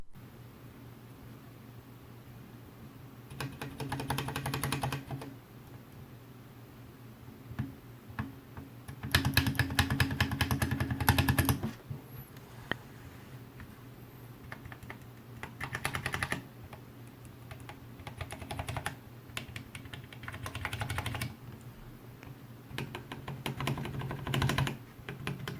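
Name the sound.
typing on a mechanical keyboard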